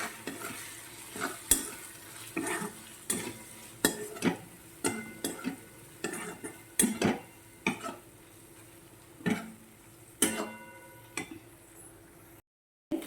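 Spices are stirred into a green pea curry in a pan: a spoon scrapes in rhythmic strokes about every second over a soft, continuous sizzle, fairly quiet, with no talking.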